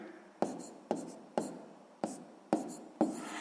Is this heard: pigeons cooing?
no